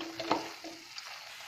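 Mint paste with onion and garlic frying in a pan over a medium flame, a soft, steady sizzle broken by a few faint stirring scrapes.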